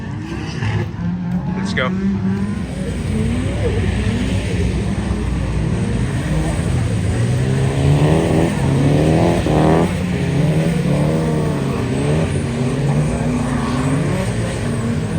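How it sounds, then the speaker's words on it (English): A tuned car drifting at a car meet, engine revving and droning loudly and steadily with rising and falling pitch sweeps, crowd noise around it and a brief voice calling out. "I told you he knows that drift, man."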